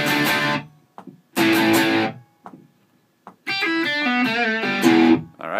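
Distorted electric guitar plays a riff: clipped chord stabs separated by silences, then a run of single notes with a string bend and pull-offs, loud and close with no talk.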